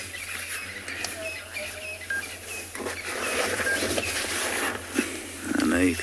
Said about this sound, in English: I know you can hear all the birds.